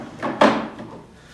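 A handmade wooden dovetail drawer slides along its runners and closes with a firm knock, close and fairly loud, with a short rustle before the impact.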